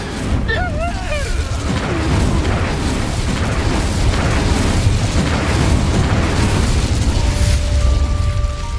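Explosive Confringo and Bombarda spell blasts in the Hogwarts Legacy game give a dense, continuous rumbling burst with crackle and magical effects, with a player's voice shouting over it.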